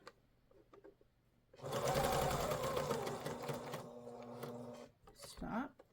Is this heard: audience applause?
no